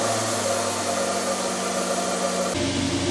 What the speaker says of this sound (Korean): 시동을 걸었습니다.